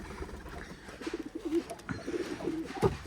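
Chot and cotton-breed pigeons coo softly and repeatedly, low murmuring calls clustered together with faint background noise and no talking.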